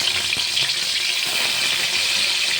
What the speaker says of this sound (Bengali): তারপরে গরম তেলের উপরে আমি মাছগুলোকে ভালো করে ভেজে নেব